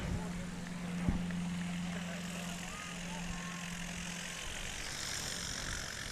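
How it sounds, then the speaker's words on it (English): A blue and white Cessna 170 propeller airplane at a STOL competition drones with a low, steady engine hum, fairly distant and partly masked by a voice talking over it. "And Nathaniel kicking that beautiful blue and white Cessna 170."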